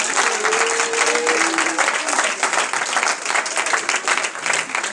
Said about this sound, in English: Oh, let's clap our hands for it.